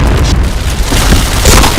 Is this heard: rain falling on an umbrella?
no